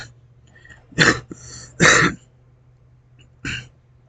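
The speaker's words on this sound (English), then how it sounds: "I just had a cough" Three separate coughs, two close together and one a moment later, against a quiet background with a low steady hum.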